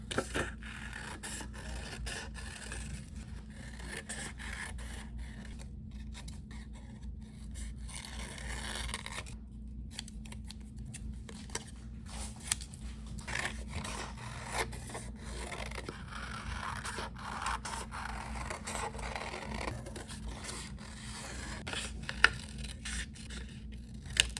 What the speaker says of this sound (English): I'm not using the tip of the scissors.